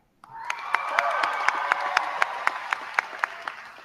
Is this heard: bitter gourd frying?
no